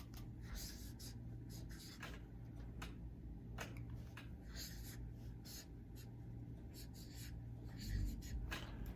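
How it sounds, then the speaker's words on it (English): A pen or pencil writes a name by hand, producing steady light scratching strokes in short bursts throughout, close up over a constant low hum, with no talk. "Then I'm going to write the rest of her name."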